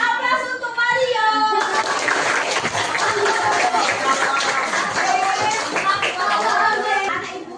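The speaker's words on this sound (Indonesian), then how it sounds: "Oke, beri aplaus untuk Mario." Loud, sustained applause from a classroom of children clapping for a student, steady and dense for several seconds with a few young voices calling out over it.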